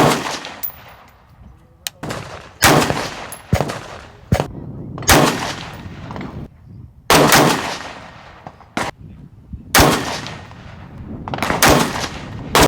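A Daniel Defense M4A1 Block II rifle firing 77 grain Sierra Match King open-tip rounds, about a dozen sharp, loud close-range shots spaced a second or two apart, each with a brief ringing decay.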